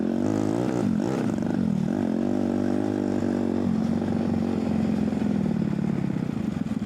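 A turbo-modified Barbie mini toy jeep's electric motor revs loudly and continuously, a steady buzzing whine that shifts pitch partway through, close to the microphone with no talk.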